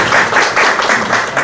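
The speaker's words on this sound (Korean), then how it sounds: "많은 박수로 부탁드리겠습니다." An audience at a Korea University Open API presentation claps to welcome a speaker, a short burst of steady, dense applause with a loosely pulsing rhythm and no talking over it.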